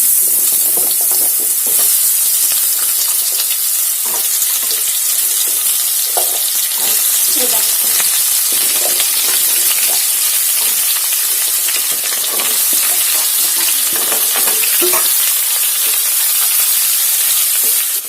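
Raw mango pieces for a sweet-and-sour pickle stir in an uncovered pan, frying with a steady, close sizzle and hiss, broken by scattered clicks and scrapes of the spoon throughout.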